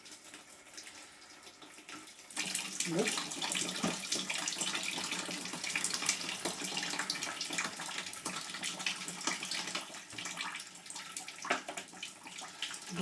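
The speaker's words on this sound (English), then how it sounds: "The tap is opened at the bottom, just so when the water comes through, it would start" Wort trickles and splashes from the bottom tap of a home brew all-grain kit, starting after a quiet moment and running continuously close by. A single word is spoken briefly.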